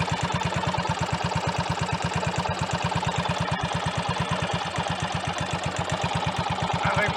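A Triumph Tiger Cub Sports replica motorcycle engine runs steadily at idle, its single-cylinder firing a fast, even thumping pulse, loud and close throughout with no talk.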